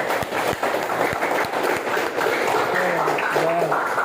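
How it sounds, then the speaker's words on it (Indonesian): A classroom of high school students claps for a classmate named Jena during an Indonesian language lesson, a dense patter of hand claps mixed with overlapping chatter and voices. "tepuk tangan juga untuk Jena"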